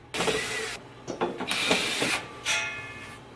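Square head screws being unscrewed from an old chair, heard as close, repeated ratcheting clicks and grinding mechanical whirs in several bursts, with no voices.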